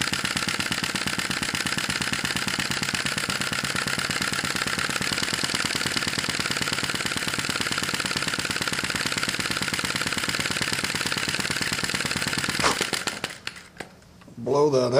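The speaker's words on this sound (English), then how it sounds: "This is a typical speed for this engine." A small Sai Hu V1-45 vacuum engine runs steadily with a rapid, rattling mechanical chug, loud and close, before cutting out abruptly near the end.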